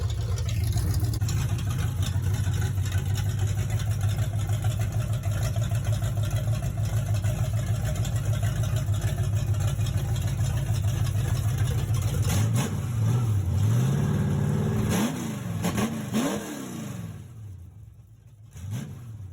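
New engine in a 1969 Ford F100 pickup idles steadily up close, then revs several times in rising and falling surges before settling and dropping away near the end.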